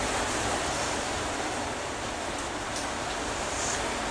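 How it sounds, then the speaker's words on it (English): Heavy rain drums on a roof during a big rainstorm, heard from inside a bathroom as a dense, steady hiss of broadband noise, loud and unbroken, with no talk. "you can hear rain falling on the roof in here"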